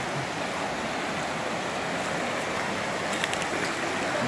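A stream flows steadily outdoors. The water gives a constant broadband rush at moderate distance, with no voices and a few faint clicks near the end.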